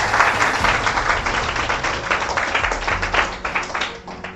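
Audience of interview candidates and staff applauding a rank-6 topper, dense continuous clapping at close range that holds steady and tapers slightly at the end.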